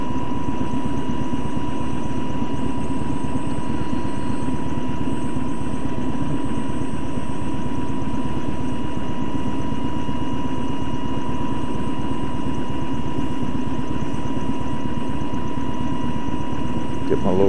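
A tour helicopter near Mt St Helens runs with a steady, loud engine drone and a fixed whine, holding constant throughout without a clear change in pitch or distance.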